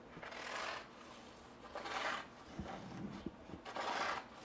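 Serrated knife blade being sharpened, with three long rasping strokes of metal scraping against the sharpener, broken up by soft clicks and taps, quiet and close.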